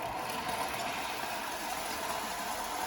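A clockwork Hornby O gauge tender locomotive runs fast along the track, giving a steady whirring mechanical drone with a constant rattle throughout.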